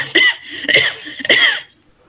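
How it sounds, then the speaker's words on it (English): Three harsh coughs in quick succession, close and loud, ending in quiet. "How long have you had that cough?"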